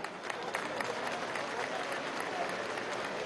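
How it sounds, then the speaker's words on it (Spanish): Steady applause from a large crowd at an outdoor political event in Venezuela, continuous and fairly loud for several seconds with no clear voices above it. "Un aplauso"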